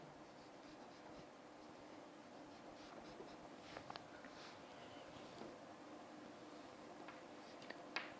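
A drawn line on an engineering drawing being erased, heard as soft, continuous rubbing and scratching with a few small ticks, faint and close, with no talking.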